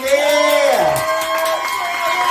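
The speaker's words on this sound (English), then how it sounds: "Please, round of applause for Miss Sherry, baby." Audience at a live poetry night in a Scranton venue cheers, with loud whoops and a rising then falling shout over steady crowd noise, close and sustained.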